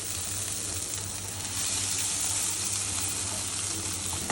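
Kachki dried fish frying in a pan with frozen coriander leaves just added, a continuous close hiss and crackle that swells slightly louder partway through, with no voices.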